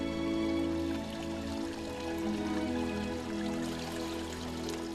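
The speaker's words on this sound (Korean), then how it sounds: "청량한 물소리가 나는 곳을 따라가 보면" Clear stream water flowing steadily through a forest valley near the summit of an island, a continuous close rushing and gurgling with no voices.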